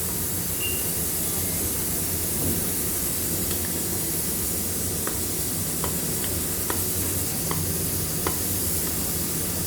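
Sago payasam being stirred in a pot to keep it from sticking, a steady low scraping and bubbling bed with faint clicks of the spoon against the metal, no voices.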